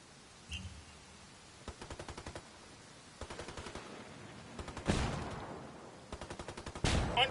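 Heavy automatic gunfire in the tactical shooter Ghost War: repeated bursts of rapid shots, some louder and nearer than others, separated by short gaps, with one bigger blast midway.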